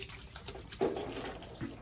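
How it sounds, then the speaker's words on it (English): Water splashes close up as someone wets their face before a wet shave at a sink, a brief burst of sloshing and trickling lasting under two seconds. "let me wet my face"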